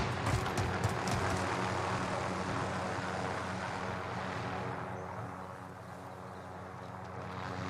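A helicopter in the video game Warzone: a steady, moderately loud engine and rotor drone that slowly fades and dulls, with no talk over it.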